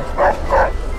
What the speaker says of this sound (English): It's my Misha, my dog.